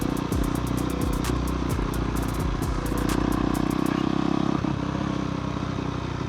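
A Honda CRF dirt bike rides a motocross track, its engine revving and shifting in rising and falling bursts, close and loud, with clattering of the chassis and loose ground.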